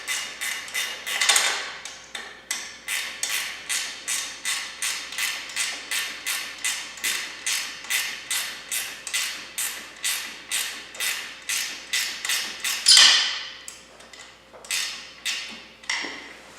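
Bolts being tightened on a skid plate for a 2024 KTM 350 EXC-F, a rapid regular series of sharp ratchet clicks, dozens in a steady rhythm, close and loud with no talk.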